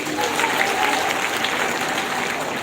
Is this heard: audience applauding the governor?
yes